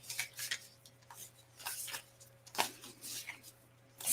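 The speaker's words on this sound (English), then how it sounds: "I'm going to give my deck a really good shuffle." Soft, close-up shuffling of a tarot card deck in a quiet room, a series of irregular papery riffles and slaps in bursts over a low steady hum, with no talking.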